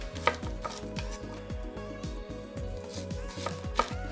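A knife cuts through a fennel bulb on a cutting board in half-inch slices, giving a close, regular series of crisp thuds and crunches at a quick, even rhythm with no talking.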